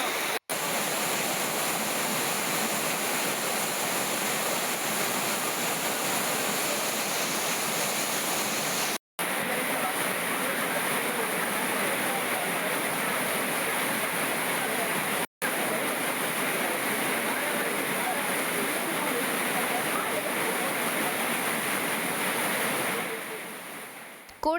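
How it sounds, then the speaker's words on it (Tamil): Floodwater rushing down the Tirupati hills after a night of heavy rain, a steady loud roar of turbulent water running continuously throughout. "திருப்பதியில் விடிய விடிய கனமழை கொட்டி தீர்த்ததால் மலையில் வெள்ளப்பெருக்கு ஏற்பட்டது."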